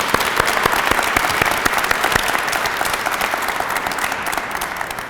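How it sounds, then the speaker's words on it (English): Audience applause at a press conference announcing a donation by Cleveland Clinic and the City of Cleveland to Lead Safe Cleveland, a steady, dense round of clapping from a crowd that holds strong and fades slightly at the end. "one more round of applause for today's announcement."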